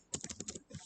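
Quick, uneven clicks of typing on a computer keyboard, close and fairly quiet, with a short pause before a few softer keystrokes.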